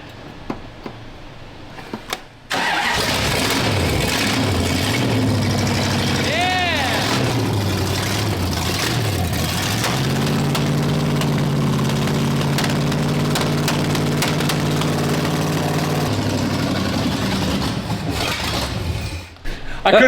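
A junkyard car engine starts and runs loud and close, its revs rising and falling as the throttle is blipped several times, then settling into a steady hum with people talking over it.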